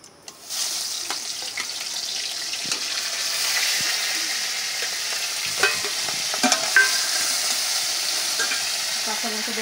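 Tilapia fish frying in hot oil gives a steady, bright sizzle throughout, with occasional louder spits and crackles and a few clinks of stirring, no talking over it.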